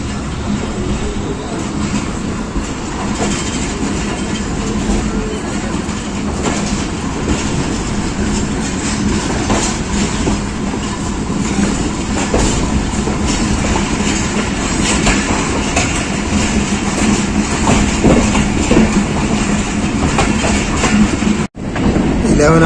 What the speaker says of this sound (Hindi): हज़ारा एक्सप्रेस शाहीनाबाद अप्रोच कर रही है